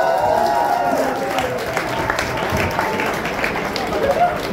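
An event crowd claps and cheers at a chili-eating contest while a host speaks over the noise, the applause moderate and continuous.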